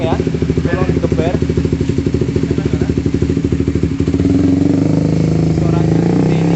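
Suzuki GSX-R150 motorcycle with an aftermarket Lone Rider 32 cm slip-on exhaust and road race header, loud and close, idling with a rapid pulsing beat that rises into a sustained rev near the end.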